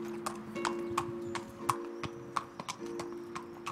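A mare's hooves clip-clop at a walking pace on a path, a steady rhythm of sharp, fairly close knocks running throughout over a faint low background hum.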